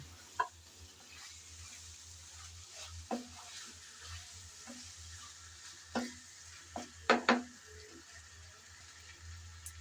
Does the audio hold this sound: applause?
no